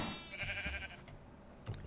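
Sheep bleating in the block-building survival game TerraFirmaCraft, a couple of short, nasal bleats that stand out loudly and close over a low, busy game background.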